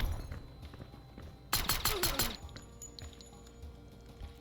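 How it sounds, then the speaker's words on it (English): A flashbang grenade detonates in the tactical game Door Kickers as a single sharp bang with a brief crackling, shattering tail, standing out loudly against a quiet background before fading. "Flashbang's going out."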